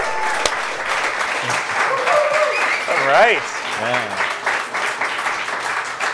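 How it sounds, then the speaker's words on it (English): Studio audience at a downtown podcast taping clapping and cheering for an arriving guest, sustained loud applause with whoops while a couple of people speak briefly over it. "please put your hands together and cheer ridiculously loud and long for our next guest"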